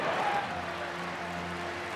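A stadium crowd of baseball fans at Wrigley Field, many in Cubs gear, cheers steadily through a Reds–Cubs game, a dense, sustained roar with faint applause filling the space.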